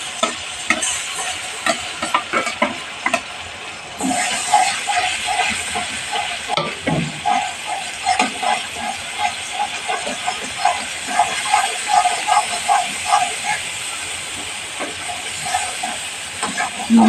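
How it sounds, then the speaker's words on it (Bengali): A paste of ground chili and turmeric fries in a pan, a steady hissing sizzle under a run of regular scraping, tapping stirs that grows busier partway through, with no speech. "লঙ্কা হলুদটা কষানো হয়ে গেল।"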